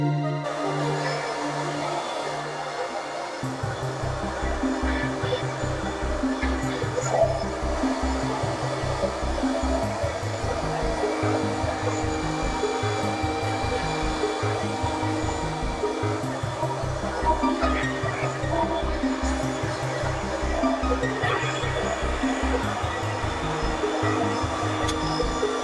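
A hair dryer set to high heat and low speed runs steadily for the full length while styling a pompadour, a close, continuous whirring drone with a low motor hum and no break.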